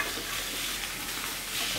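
Ingredients for sinigang searing in oil in a hot pan, a dense steady hiss and crackle heard up close throughout.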